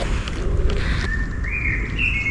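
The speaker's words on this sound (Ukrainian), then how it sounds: "обожнюю цей спів пташок" Birds sing in a forest, a few clear whistled notes rising in pitch over a steady rushing background of wind or water, moderately close.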